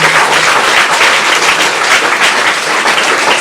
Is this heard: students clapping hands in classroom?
yes